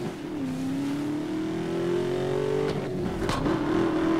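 A Ford Mustang Boss revs loudly in the racing game Need for Speed: Most Wanted, its engine tone climbing steadily, then dipping and rising again with a brief tire squeal, and no one speaking over it.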